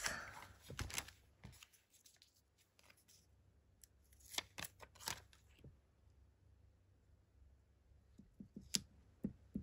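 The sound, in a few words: rounding the corners of a sticker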